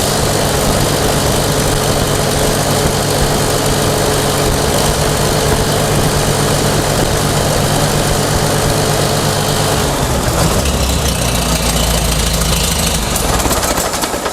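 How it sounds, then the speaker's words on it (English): A Farmall H tractor engine with a newly installed carburetor runs loud and close, a steady low idling rumble that shifts in tone partway through as it is adjusted. "So let's start the tractor and see where it's at."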